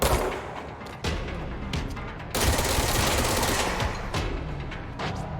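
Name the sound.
gunfire from the video game Control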